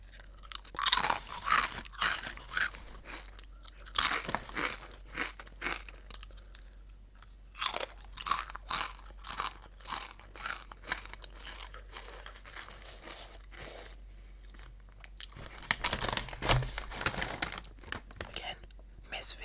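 Close, crisp crunching of Miss Vicky's spicy dill pickle potato chips, with repeated bites and chewing in uneven bursts and a faint rustle of the bag.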